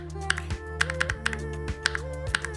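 Fingers type on a NuPhy Air75 mechanical keyboard with clicky, tactile switches, making a steady run of sharp, close key clacks over soft background music.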